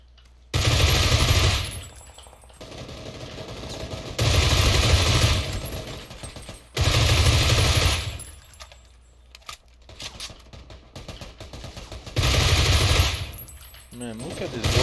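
Repeated long bursts of automatic gunfire strafing in PUBG, loud and broadband, arriving in four sustained volleys of roughly one to two seconds each, separated by quieter gaps filled with clicks, rattles and jangling metallic handling noises.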